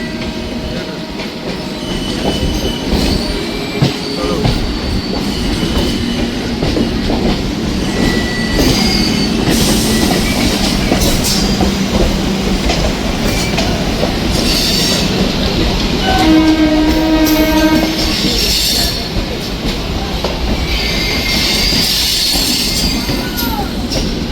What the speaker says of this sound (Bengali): মেদিনীপুর লোকাল। ট্রেন আমাদের ছেড়ে যাচ্ছে টিকিয়াপাড়া।